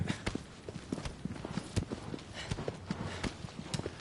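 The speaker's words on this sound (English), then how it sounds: "So you can just like go around on your horse and enjoy yourself" Rhythmic video game horse hoofbeats clatter quickly and evenly in Shadow of the Colossus, a steady galloping clip-clop heard up close and fairly quiet.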